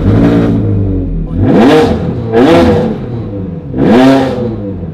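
A Ferrari 360 race car running straight pipes blips its engine in loud, close rev bursts, four rising and falling snarls separated by short idling dips.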